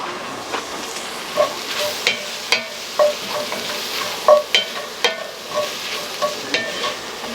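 A spoon stirs flour cooking in a pot as the roux for New England clam chowder, with steady scraping strokes repeating in a loose rhythm over a soft, continuous sizzle close by.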